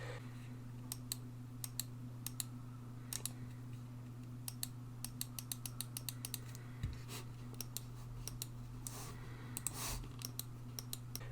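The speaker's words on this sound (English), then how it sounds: "I can also activate it just with the mouse flat on the desk and pressing on the top" A SteelSeries Aerox 3 Wired mouse clicks as it is pressed on top while lying flat on a desk, giving a series of sharp, close, evenly spaced clicks over a low steady hum.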